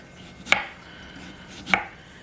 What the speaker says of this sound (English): just kind of give it a little bit of a diagonal slice